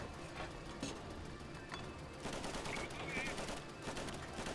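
Dense, continuous gunfire from the video game Easy Red 2 fills the scene, with overlapping automatic bursts and single shots that stay loud throughout, set against a constant battle din.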